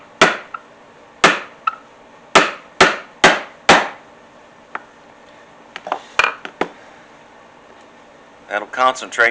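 Hammer striking a punch set on a tack in a leather strap tool holder: about a dozen sharp, loud metallic taps in irregular bursts, with a few quieter knocks between them and a brief rattle at the end.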